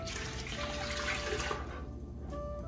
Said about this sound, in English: Fill your canner with the recommended amount of water.